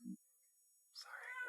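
A sick cat gives a short, faint meow indoors, a brief rising cry after a moment of near silence, with a soft earlier thump.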